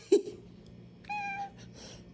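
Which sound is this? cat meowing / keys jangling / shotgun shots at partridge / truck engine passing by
cat meowing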